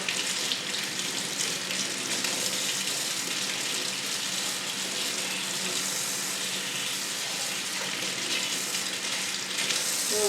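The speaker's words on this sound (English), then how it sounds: "So let me give this a quick rinse." Running water from a tap rinses a potted Phalaenopsis orchid in a sink, a steady, close splashing rush that holds for the full length with no voices.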